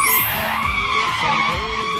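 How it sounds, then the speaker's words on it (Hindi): A car skids to a sudden stop, a loud sustained tire screech with broad hissing noise and descending tonal squeals lasting the full two seconds, with no talk over it. "अबे गाड़ी कैसे रुक गई?"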